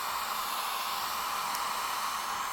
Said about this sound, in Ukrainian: Так, що ж, вимкаємо фен.